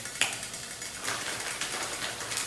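Soft, irregular clicking and faint rattling from a pot of miso soup simmering on a stove, over a low steady background hiss.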